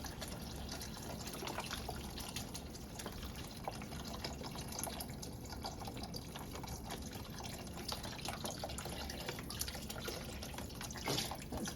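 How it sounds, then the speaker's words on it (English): Diced tomatoes and vegetable broth being poured into a minestrone soup pot: a steady, continuous liquid gush with faint drips, heard close and quiet for several seconds with no talking. "I'm gonna add the diced tomatoes and the vegetable broth. Dump all that in."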